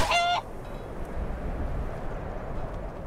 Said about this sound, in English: Ah, Robert the chicken.